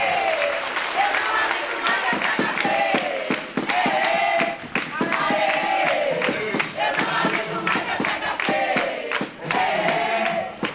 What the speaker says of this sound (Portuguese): Aplausos para José Patriota. Aplausos para ele.